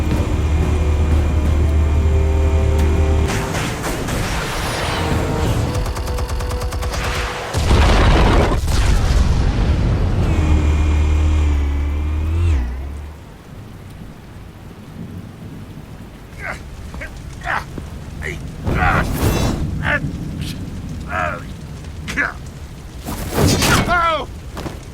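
Explosives detonating in Batman Telltale, heavy rumbling booms and crashing debris against a loud droning backdrop that cuts away to quieter scattered impacts and bursts.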